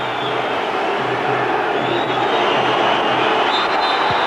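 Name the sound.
football crowd unhappy with a referee's decision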